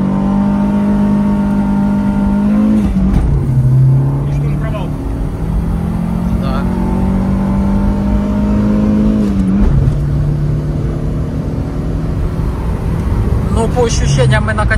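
A car launches and accelerates hard for a 0-100 run in a comparison of a Lada Kalina and a turbo Opel Kadett, its engine pitch climbing steadily with two clear gear changes; people talk over the loud engine.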